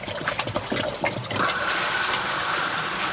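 Water draining out of a pool filter, starting with irregular gurgling splashes, then settling into a steady rushing flow, close and fairly loud with no talking.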